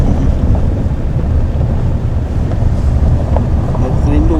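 Strong wind gusts buffet the microphone beside a river on a camping trip toward Son Kul Lake in Kyrgyzstan, a constant loud roaring rush throughout with no clear pauses.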